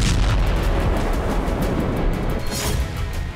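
Hezbollah rocket explosions strike Israel in a rapid series of loud, booming blasts and rumbles, with several sharp bursts rolling into one another over a few seconds.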